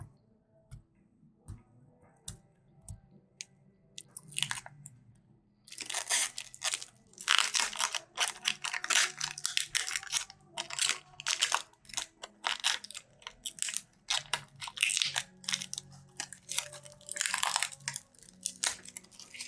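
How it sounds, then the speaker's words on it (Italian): Protective tape peeled and unwrapped from a variable-stroke tattoo machine during wrapping, giving a dense run of crackling, crinkling tears close up, quiet at first and then continuous and fairly loud. "semplicemente tolgo il nastro."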